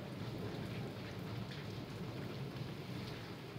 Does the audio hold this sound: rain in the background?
yes